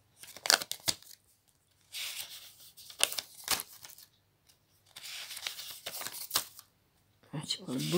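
Sheets of paper with handwritten notes rustle and crinkle in several separate bursts, close but faint, between stretches of quiet.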